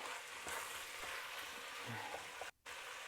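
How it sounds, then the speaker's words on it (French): Onions and bacon lardons fry in a pan for beef bourguignon, giving a steady, close crackling sizzle that drops out briefly for a moment before resuming. "Et on remet nos oignons avec les lardons dans notre plat."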